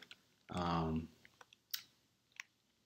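A few faint, sparse clicks of a computer keyboard as a short Linux command is typed, following a brief spoken sound.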